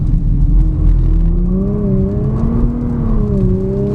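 Engine of a 2017 Nissan GT-R revving steadily with the throttle worked on a soaked Spa Francorchamps circuit in torrential rain, a loud close cabin drone whose pitch rises and falls continuously, with no talk over it.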